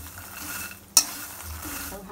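Spiced, salted makhana (fox nuts) roast in a pan, a soft dry sizzle broken by one sharp clack of a spoon against the pan midway.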